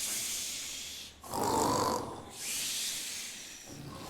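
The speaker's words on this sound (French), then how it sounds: "le monstre ronflait comme 10 soufflets de forgeron" A monster's snoring as a storytelling sound effect: two long, rasping, breathy snores, each a loud, drawn-out inhale with a quieter pause between them, close and alone.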